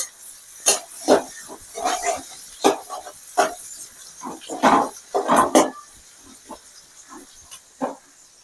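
Bitter gourd and prawns sautéing in a pan for a bitter gourd prawn fry, giving close, irregular bursts of hissing sizzle and scraping stirs that rise and fall across the clip, with no talking.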